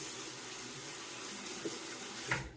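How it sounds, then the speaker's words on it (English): A bathroom tap runs a steady hiss of water while a razor is wetted under it, quiet and close, with a couple of brief splashy changes near the end before it cuts off. "I'm going to wet my razor here."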